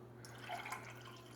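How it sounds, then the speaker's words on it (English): Orange juice is poured into a glass in a home kitchen, giving a soft, brief liquid trickle that stays very faint against a low background hum. "Give that a little bit of pour."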